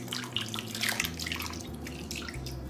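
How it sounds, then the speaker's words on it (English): Melted bouillon is poured over chicken breasts in a crock-pot: a soft, continuous trickling splash, quiet and close, lasting a few seconds. "now I'm gonna pour that over the top of my chicken breast"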